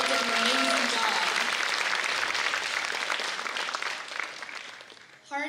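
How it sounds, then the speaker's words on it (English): An audience at a Bharatanatyam classical dance debut applauds, with loud, dense clapping that holds steady, then thins and fades near the end before a voice briefly starts. "Can everybody give another huge round of applause?"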